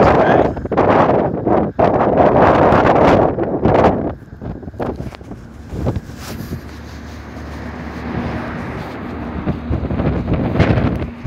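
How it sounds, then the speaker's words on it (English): Wind buffeting a microphone outdoors beside a 2018 Acura RDX AWD on a car sales lot, loud roaring gusts for several seconds that ease into a steadier, quieter rush. "A little breeze here today."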